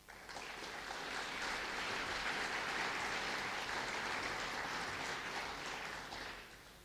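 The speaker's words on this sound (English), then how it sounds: "I kindly remind you to save your applause until the end." Audience applause at a school speech night fills a hall, many hands clapping in a sustained, even wash that rises quickly and fades toward the end, moderately distant.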